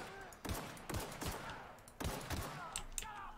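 Gunfire in the video game The Outer Worlds, with bursts of sharp rapid shots and short impacts at moderate loudness over a continuous background din.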